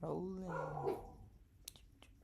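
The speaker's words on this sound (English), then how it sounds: "We don't need to bark at the storm." A dog barks indoors during a storm with a few short, moderately loud barks mixed in with nearby human speech.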